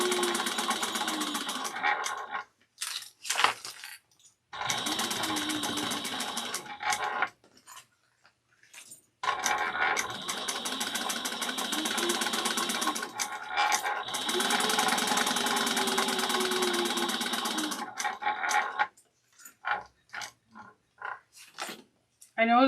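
Sewing machine basting the side pockets of a small bowler bag shut with an eighth-inch seam, running in several long steady bursts with short pauses and brief stops between them.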